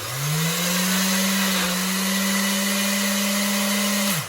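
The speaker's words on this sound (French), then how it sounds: "Il n'est pas très gros le mixeur. On va donner un petit coup avant de mettre autre chose." A small electric kitchen blender runs steadily for about four seconds, a loud continuous motor whine that spins up at the start and cuts off at the end, mixing pesto-style ingredients with garlic before nuts and parmesan are added.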